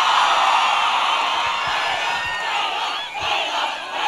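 A large crowd at a film anthem launch event for PS2 roars with cheering and shouts, a dense, loud and sustained wall of voices with some clapping filling the whole stretch, briefly dipping before swelling again.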